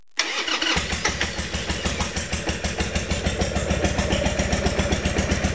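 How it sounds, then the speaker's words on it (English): A Harley-Davidson motorcycle engine cranks and fires up after a brief quiet moment, then settles into a loud, rhythmic, loping idle with a steady pulsing beat close by. "And that would be the spring starting of the Harley Davidson."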